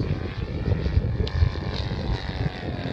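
A radio-controlled scale model airplane, a Cessna 182 type, drones with a steady propeller buzz at a distance under wind noise on an airfield, faint and continuous.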